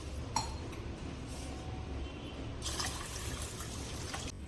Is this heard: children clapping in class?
no